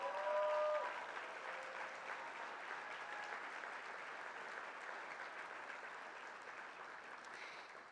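A banquet hall audience breaks into a sustained round of applause, steady dense clapping filling the room for several seconds after a brief tone at the start, fairly distant and even throughout.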